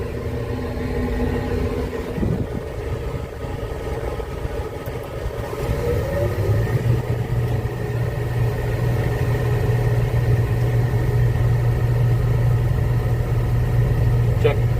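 A farm truck at a corn harvest field rumbles and idles nearby, then its engine note rises into a steady low drone as it pulls away, under ongoing machinery noise with a voice talking.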